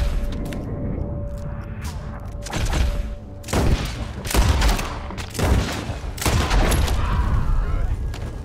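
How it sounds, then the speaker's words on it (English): Volleys of gunfire ring out around a barn in Red Dead Redemption 2, with loud, close bursts of shots and booming impacts coming in irregular clusters over a steady in-game background. "Gunshots are coming from that barn!"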